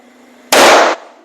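A single loud firecracker of the gundu type bursts close by, one sharp, powerful bang that cuts off quickly against otherwise quiet surroundings, with no speech.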